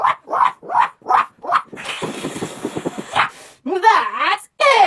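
A voice imitates a dog, giving a run of five short barks in a steady rhythm, then a longer stretch of raspy growling and yapping, followed by whiny, wavering vocal sounds, all close and fairly loud.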